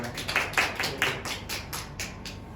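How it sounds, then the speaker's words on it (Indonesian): Classroom applause for a student answering a lesson on advertisement texts, a short burst of a few people clapping unevenly, fairly close, tapering off after about two seconds. "Tepuk tangan untuk Mas Arya"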